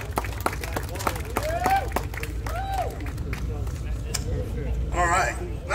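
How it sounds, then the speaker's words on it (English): A crowd applauds a woman at an evening pin-up contest held at a burnout car show, with steady clapping, whooping cheers and outdoor crowd noise running under a low rumble. "let's give Nancy a round of applause"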